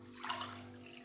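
Water poured from a cup into a cooking pot, about two cups, a brief steady splashing pour heard close up with no talking.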